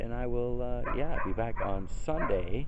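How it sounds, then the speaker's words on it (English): The neighbour's dog, waiting to go inside, lets out whimpering yips and short barks close by, mixed in with someone talking. "That's the neighbor's dog just ready to go inside."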